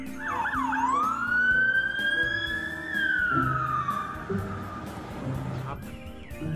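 A toy highway patrol police car plays a wailing electronic siren that sweeps up and holds, close and clear, with a child-directed voice talking faintly in the background.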